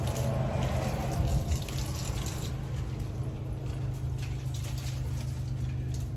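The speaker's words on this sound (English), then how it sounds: "I'm just trying to put some water on them" Water splashes and trickles onto dry garden plants, a soft continuous pouring with faint patters over a low steady background hum, heard without speech.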